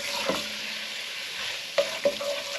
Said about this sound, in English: Just let that fry for about 5 minutes.